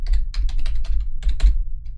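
Rapid typing on a computer keyboard, a steady run of close, crisp key clicks in uneven bursts with a brief pause before a final flurry, with no talking.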